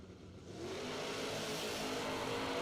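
A first-generation Camaro and a Fox Body Mustang launching at a drag strip, an engine roar that swells and holds at a distance, steady and fairly faint.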